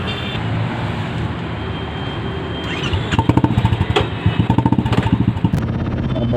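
Royal Enfield motorcycle idling then revving, a close, steady engine rumble that breaks into a pulsing thumping exhaust beat partway through, with no voices.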